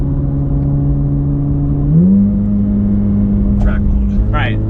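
A sports car engine hums under load while driving, its pitch stepping up smoothly partway through as revs climb, with a person talking over the steady drone toward the end.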